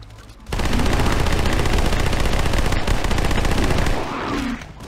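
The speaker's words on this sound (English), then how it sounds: "the new SMG is really goddamn loud" Loud, sustained submachine gun fire from an SMG in a Halo CE mod rattles continuously for about three and a half seconds, then stops.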